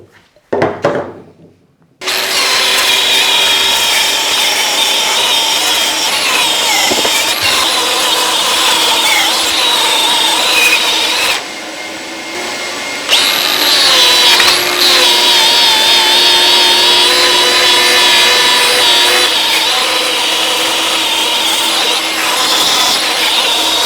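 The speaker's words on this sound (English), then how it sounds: "it's going to be a bit noisy now, a lot of grinding and a lot of polishing" Power tool grinding and polishing a steel splitting axe head: a loud, sustained high-pitched whine with shifting tones as the metal is worked, starting after a brief clatter and dipping once before resuming.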